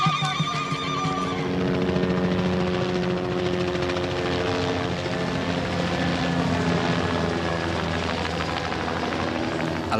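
A helicopter flies steadily and loudly in Namibia, its rotor drone and engine hum continuous and close throughout, with no voices.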